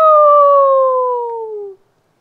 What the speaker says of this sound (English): The townspeople all heard the howl and saw Sam racing off with his nose to the ground